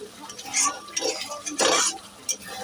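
Chicken bharta being stirred in a pan at home, a utensil scraping and clattering against the metal in several short bursts, close and fairly loud.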